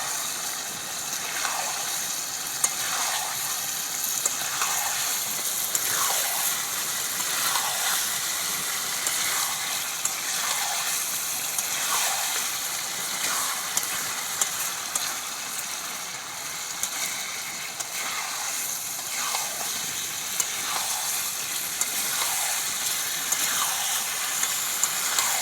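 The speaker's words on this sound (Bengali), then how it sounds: "5 মিনিট ধরে আরও ভালো করে নেড়ে কষিয়ে নেব।" Chicken leg pieces fry in spice paste, giving a steady soft sizzle and hiss, with a faint scrape of stirring repeating at regular intervals throughout.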